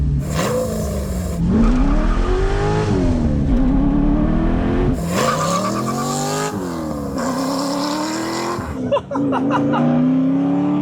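An LS-engined widebody Porsche 911 revs repeatedly, pitch sweeping up and down with loud exhaust roars, close and aggressive, punctuated by brief pauses between bursts.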